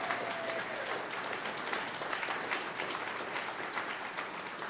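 Steady crowd applause at an oath of office ceremony, a dense, even patter of many hands clapping for several seconds without a break, moderately loud and close.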